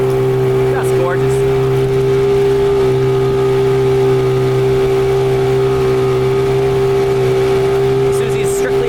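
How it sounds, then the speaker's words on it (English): A 1998 15hp Johnson outboard motor runs on a boat with a loud, steady drone that holds a constant pitch throughout. "I really didn't know if this motor was going to overheat or die or perform well at all."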